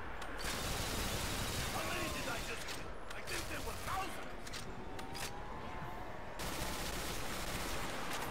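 Tommy gun fire in the Call of Duty World at War custom zombies mode, dense rapid automatic bursts over constant game noise, with a voice talking over the gunfire.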